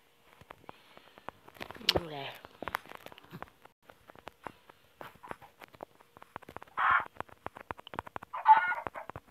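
Short clucking calls from a chicken in a video game, scattered among clicks and taps, with a couple of louder squawking bursts.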